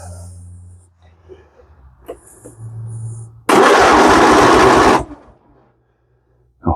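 A John Deere 125 lawn tractor engine cranks and fires up, then roars loudly and steadily up close for about a second and a half before dropping away, with soft handling noises and brief quiet moments around it.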